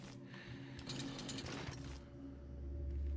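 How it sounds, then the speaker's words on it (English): A chainsaw runs in the video game Doom, a steady mechanical engine drone with rattling, ratcheting texture, moderately close and sustained, rising slightly toward the end with no talk over it. "you have to press X to take out the chainsaw"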